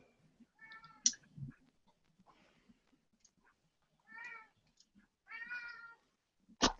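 A pet cat named Kitty, male, meows several times in separate, fairly close calls, with quiet gaps and a sharp click or knock between them.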